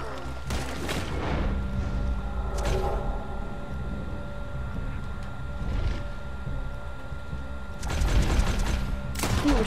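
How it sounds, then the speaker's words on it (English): Bursts of gunfire in the video game Red Dead Redemption 2, with a cluster of sharp shots near the start, a lone crack mid-way and another volley at the end, over a low background rumble. "Ooh, so many shots in the head."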